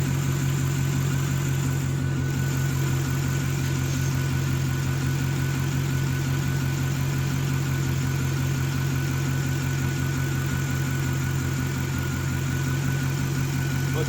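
An LS1 V8 engine fitted with an MSD ignition idles steadily and close up, a continuous even rumble with a constant low pulse that holds throughout, no voices.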